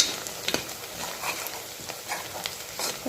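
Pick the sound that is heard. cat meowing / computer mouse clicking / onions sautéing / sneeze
onions sautéing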